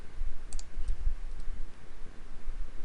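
Computer mouse clicks during FSX flight simulator scenery editing, a few quick, faint clicks around the first second and a half over a low background hum, no talking.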